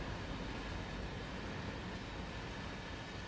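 Continuous heavy rumble of a CSX freight train led by AC-44 wide-body locomotives in Train Sim World 5, a steady broadband roar with no pauses, close and alone.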